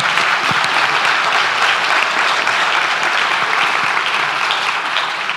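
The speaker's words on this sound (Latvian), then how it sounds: "Es lūkšu skolotāju piecelties un aplausi skolotājai." An audience at a discussion event applauds a teacher with sustained, loud, even clapping that fills the whole stretch without pause.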